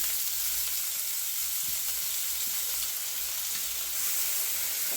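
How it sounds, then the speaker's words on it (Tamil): Finely ground large onions sauté in a pan for a spicy Tamil egg thokku, giving a steady, even sizzle and hiss with faint stirring scrapes throughout, and no talk. "நல்லா வதக்கிக்கிறோம் இது நல்லா வதங்கிடும்"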